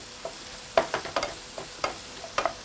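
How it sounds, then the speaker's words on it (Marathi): Spiced masala with turmeric being sautéed in oil in a pan, a soft sizzle broken by several sharp scraping stirs at an irregular rhythm, fairly close. "आता परत मी छान परतून घेते"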